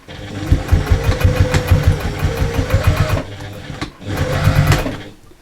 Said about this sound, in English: let's pop it under the machine. So it is just a stay stitch.